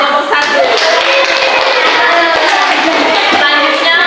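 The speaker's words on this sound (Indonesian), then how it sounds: "Berikan tepuk tangan untuk kelompok 1." Students in a classroom clap for a group after its presentation. The clapping is loud and dense, with a rapid patter of many hands that holds steady throughout.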